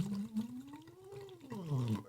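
Air is blown through a straw into water, making a soft bubbling mixed with a hummed voice tone that slides up and back down, close and fairly quiet.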